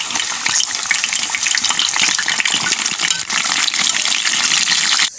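Chicken and bottle gourd leaf fritters frying in hot oil, a loud continuous crackling sizzle close by, steady throughout before stopping abruptly at the end.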